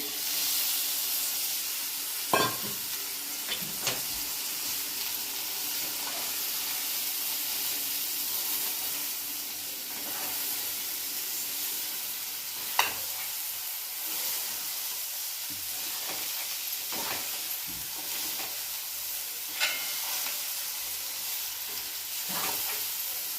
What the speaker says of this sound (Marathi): आता आपण हे कटोरले वाफवलेले याच्यात टाकून देऊ.